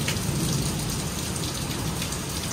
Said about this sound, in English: it is literally pouring rain